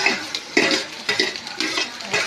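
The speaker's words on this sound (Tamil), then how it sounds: "இப்போ நீங்கள் வச்சுருக்க காய் எல்லாத்தையுமே எடுத்து இப்படி கொட்டிக்கோங்க" Chopped vegetables for noodles tipped into a pan and stirred, with close, rhythmic scraping strokes about every half second and a faint frying sizzle between them.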